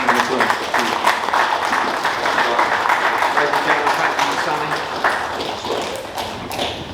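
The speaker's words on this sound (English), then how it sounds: "please give the new WBC champion of the world a round of applause" A room full of people applauds a new WBC boxing world champion in steady, dense clapping that carries on throughout, with voices and some thumps mixed underneath.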